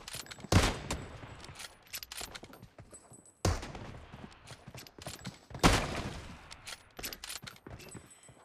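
Kar98k rifle gunfire in PUBG Mobile: three loud, sharp shots spaced a few seconds apart, each with a trailing echo, over quieter scattered clicks and footstep-like game sounds, with no talking.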